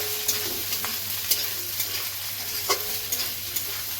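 Vegetables and spices for Bengali shukto sizzle in a hot pan while a utensil stirs them, making soft scraping strokes at an irregular rhythm over a continuous frying hiss.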